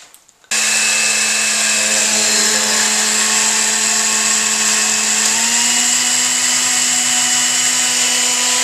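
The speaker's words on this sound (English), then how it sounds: "3/4 cups of oatmeal, all in the blender" A countertop blender whirs steadily as it mixes oatmeal into crepe batter for high protein peanut butter crepes, switching on after a brief quiet start and running loud and continuous to the end.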